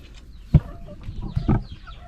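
Rhode Island Red laying hens give a few short clucks close by, with two sharper calls over a quiet farmyard background.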